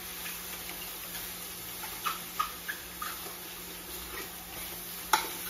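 Chicken and broccoli fry in a pan while being stirred, a soft steady sizzle broken by a few sharp clicks of a utensil against the pan.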